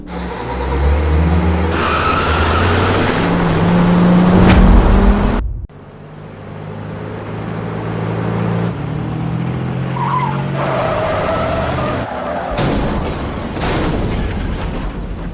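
Cars racing and overtaking on a mountain road, engines roaring steadily with tire squeal and skidding, then a sudden cut into a different stretch of continuous engine drone and passing noise.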